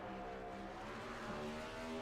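Several race cars in a sim racing league game roar past together at full throttle, steady layered engine drone with harmonic whine, loud and continuous with no talking.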